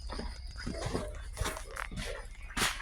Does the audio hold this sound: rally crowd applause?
no